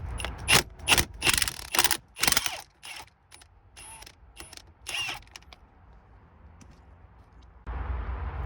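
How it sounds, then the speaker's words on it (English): Nut being worked loose on the steering wheel of a 1999-2007 Chevrolet Silverado, a run of close, loud ratcheting clicks and metallic bursts in the first half, then quieter scattered taps and faint rustling. "all we have to do is get this nut off and the wheel comes off"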